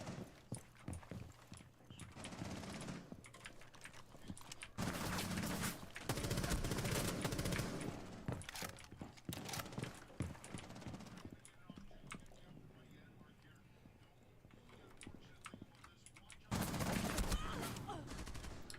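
Enemy gunfire in the tactical shooter Rainbow Six Siege, repeated loud bursts of rapid shots, clustered around five to eight seconds and again near the end, over constant game noise and footsteps, with a player talking throughout.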